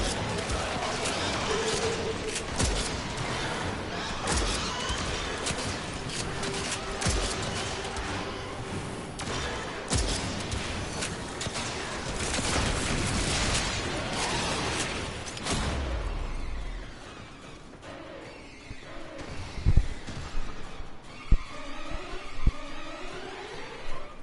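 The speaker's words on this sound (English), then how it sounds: "I'll start shooting over here, and then shoot around down here" Rapid bursts of gunfire from the sci-fi shooter game Warframe, dense and continuous for about fifteen seconds, then sparser scattered shots and thuds, with a voice talking over parts of it.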